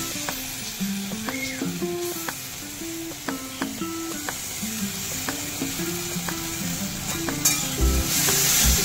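Mustard paste sizzles and fries in a pan as it is stirred with banana stem, steady loud frying hiss with repeated scraping strokes of stirring, no talk.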